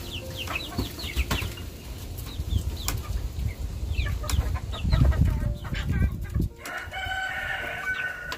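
Chickens in a small, window-ventilated poultry shed holding both laying and meat birds make close, busy clucks and chirps, with a crow and bursts of wing flapping over a continuous flock murmur.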